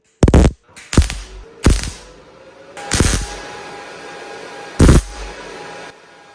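MIG welding tacks on the back side of a C10 truck roof panel to fill old screw holes, heard as five short, loud crackling bursts, each under a second, separated by brief pauses, close up with no talking.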